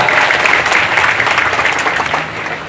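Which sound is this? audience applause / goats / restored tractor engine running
audience applause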